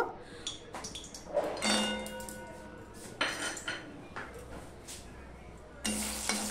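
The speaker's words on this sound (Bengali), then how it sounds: "আর এখানে যে বড়িগুলো রয়েছে সেগুলো আমি এবার ভেজে নেব" Bori lentil dumplings fry in a pan of oil with a soft, steady sizzle, broken by a few clinks and scrapes of a utensil stirring against the metal, heard close up with no talking.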